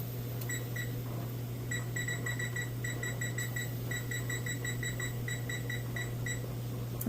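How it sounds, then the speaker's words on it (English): A kitchen timer set during pressure canning of homemade chicken broth beeps in repeated quick pairs and short runs of bright electronic tones over a steady low hum. "I'm going to set a timer"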